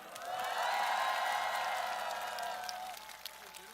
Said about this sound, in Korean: 뜨거운 환호와 박수 부탁드립니다